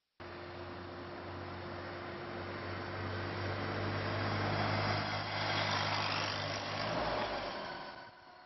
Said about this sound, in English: The Testbed 3 vehicle, a modified Polaris Ranger, is currently operational